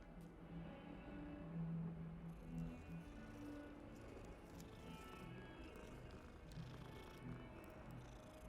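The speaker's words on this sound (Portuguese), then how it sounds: "Olha um gatinho." A kitten purring in the Hogwarts Legacy video game, a soft continuous low rumble with faint background game ambience and no talk.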